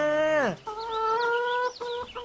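A chicken clucks and squawks up close, a drawn-out call dropping in pitch followed by a run of steady clucking notes.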